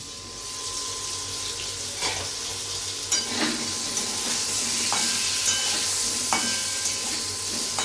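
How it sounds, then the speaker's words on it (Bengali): Pointed gourd (potol) pieces fry in a pan, giving a continuous close sizzle with occasional clinks and scrapes of a spatula, and no talking. "পটলগুলো খুব ভালোভাবে ভেজে নিতে হবে, একটু লাল লাল করে ভেজে নিতে হবে।"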